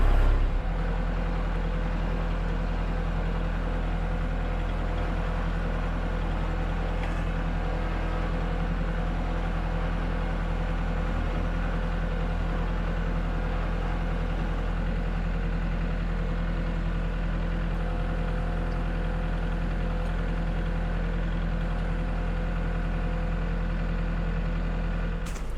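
A tractor engine runs steadily throughout, a constant loud mechanical drone with a low hum while it moves a firewood splitter and its feed table up to a conveyor.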